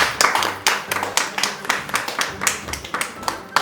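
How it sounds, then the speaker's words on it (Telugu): An audience at a children's drawing and fighting competition prize event claps, with crisp but irregular, fairly sparse hand claps from a small crowd that come close together for several seconds. "అందరూ క్లాప్స్ కొట్టండి"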